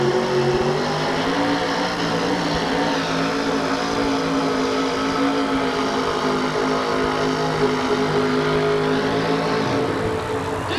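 An alcohol-injected pulling truck strains through a sled pull at a 1987 USHRA event in Oakland, its engine a loud, sustained roar that climbs gradually in pitch, heard alone without talk.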